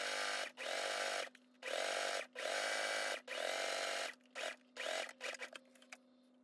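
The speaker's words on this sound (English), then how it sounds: "Then using straight stitch, sew it across." A sewing machine straight-stitching bias tape onto a shirt runs in several close, whirring bursts, longer at first, then shorter stop-start pulses at the end.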